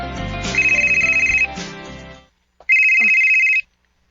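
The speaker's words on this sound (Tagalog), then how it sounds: "Si Renz ang nanawag" Mobile phone ringtone signalling an incoming call, a bright repeating electronic melody heard in two bursts. The first plays over background music and the second rings alone after a brief pause.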